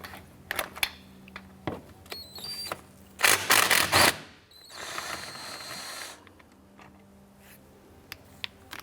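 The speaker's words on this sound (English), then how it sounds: "Below your belt tensioner, there's a 12mm bolt right here. I want to go ahead, loosen, and remove that." Ratcheting and metallic clicks from a wrench loosening a 12mm bolt below the belt tensioner of a 2004-2008 Acura TL, with a louder burst of clatter midway and quieter handling noises around it, no talk.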